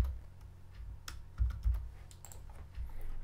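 Someone types a folder name on a computer keyboard, a quiet scatter of key clicks with a few louder taps, unhurried and close, with no talking.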